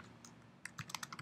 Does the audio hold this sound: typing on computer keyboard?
yes